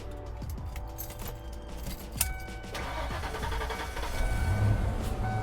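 Keys jangle as a 1992 Ford Mustang Fox body starts up, then its engine settles into a steady, smooth idle with a low rumble that grows slightly louder toward the end, heard close by.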